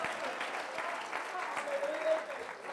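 A church congregation claps hands together in a dense, continuous round of applause, fairly quiet and roomy, with faint voices mixed in.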